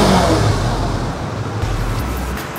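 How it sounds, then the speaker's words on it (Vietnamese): A Yamaha R3 motorcycle idles close by with a deep, steady exhaust burble that holds loud and even throughout, with no voices. "bây giờ mình sẽ cho anh em nghe tiếng bô R3"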